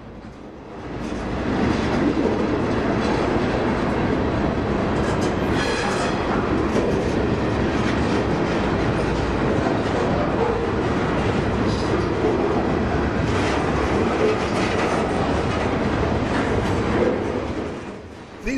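A freight train in Oregon, made up of box cars carrying wood products, rolls past with a loud, sustained rumble and rattling wheel clatter that swells in, holds steady, then eases off, with no voices.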